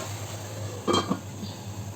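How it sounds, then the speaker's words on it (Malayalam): A lid set onto a pan of egg noodles makes a single short metallic clink and clatter midway, against a quiet low background hum. "ഇനി ഇതിനൊന്ന് മൂടി വെച്ചിട്ട് വേവിച്ചെടുക്കാം."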